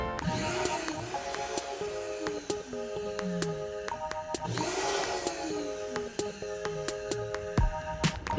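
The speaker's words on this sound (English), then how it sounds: "So you want to blitz the" A blender whirs continuously, its motor pitch rising and falling in waves as it chops a thick paste of peas and herbs, with a clattering rattle throughout.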